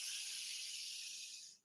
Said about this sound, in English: make the longest exhale that you can, exhaling all that old air, exhaling through the mouth